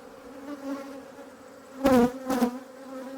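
Honeybees swarm around their hive box in a steady, droning buzz, with two louder surges as individual bees zip close past, one after the other, and no voices.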